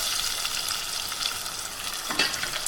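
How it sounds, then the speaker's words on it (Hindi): Onion paste and beef pieces frying in a hot pan for a bhuna masala gosht, giving a steady close sizzle with a brief stir or clatter near the end, no voices. "इसको मैं थोड़ा सा फ्राई करूंगी।"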